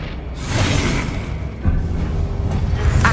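Incendio fire spell cast in Hogwarts Legacy, a roaring whoosh of flame with a booming burst partway through, dense and continuous throughout.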